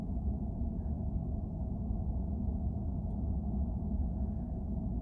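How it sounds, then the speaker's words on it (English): Steady low rumble of tires rolling on pavement inside a moving Ford F-150 Lightning electric pickup driving through a residential neighborhood, a continuous even hum with no engine note and no talking. "I think a lot of that noise you're hearing there is just the tires and the road"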